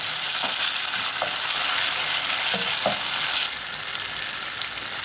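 Jollof rice base of blended tomato, pepper, onion, garlic and ginger cooking in a saucepan over the fire, a steady close sizzle and bubbling with a few scraping stirs, no talking.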